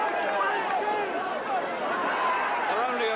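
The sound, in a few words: British fans cheering in Mexican boxing ballroom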